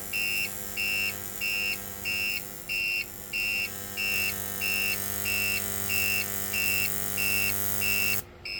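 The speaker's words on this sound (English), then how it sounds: "I love the distortion, how it sounds like it's like an amplifier if you touch the input" Microwave oven transformer run from an inverter through a ballast coil and light bulb, giving a steady electrical hum beneath a loud pulsing buzz that repeats about twice a second, ending in an abrupt crackle.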